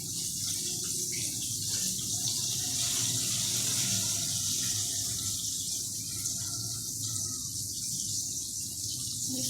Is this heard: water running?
yes